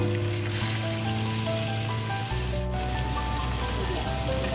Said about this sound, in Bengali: নুন হলুদ মাখিয়ে রাখা ভেটকি মাছ চার পিস ভেজে তুলে নিচ্ছি